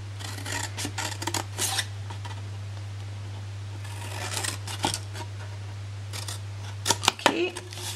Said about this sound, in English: We're cutting off that L-shaped section from each corner.